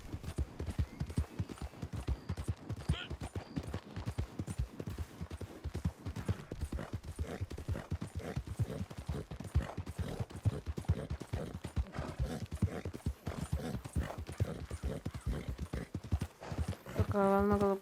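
Rapid clip-clop of a horse galloping in the Red Dead Redemption 2 video game, a steady drumming of hoofbeats throughout with a brief whinny near the end, with speech in the background.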